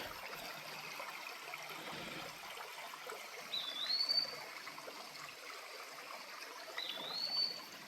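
A creek flows along the Spout Spring hiking trail, a soft steady trickle heard at a distance, with two faint bird chirps rising above it.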